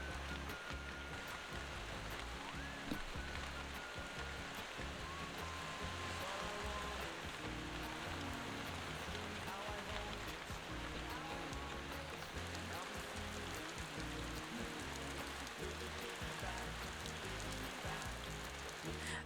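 Steady rain pours down outside a home just after the windows have been cleaned, a dense, continuous hiss with scattered close drops pattering on surfaces throughout, fairly loud and constant, with no voices.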